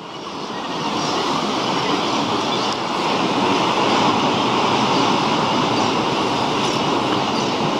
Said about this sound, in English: The sound of the crashing waves.